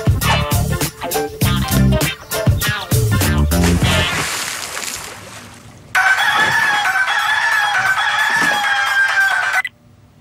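A rooster crows loudly and close for about four seconds near the end, its sustained call following a busy, percussive stretch of other sound at the start.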